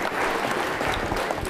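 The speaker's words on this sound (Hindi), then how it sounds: "तालियां बजाइए जोरों से, जोरों से बजाइए।" An audience at an Independence Day quiz show for NCC cadets claps loudly and steadily, a dense burst of applause close by.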